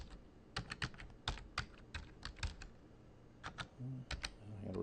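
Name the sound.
typing a password on a computer keyboard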